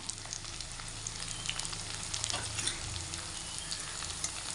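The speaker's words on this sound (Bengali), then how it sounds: "হলুদ গুঁড়ো দিয়ে ভালো করে নেড়ে চেড়ে নেবো।" Banana flower curry fries quietly in a pan as turmeric powder is stirred in, a soft continuous sizzle with faint scraping stirs, fairly quiet and close.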